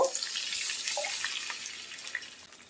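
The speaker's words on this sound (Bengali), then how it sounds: "পানি দিয়ে দেব" Water poured into a pan of fried onion for pabda fish curry splashes briefly, then settles into a soft hiss and bubbling, close and fairly quiet.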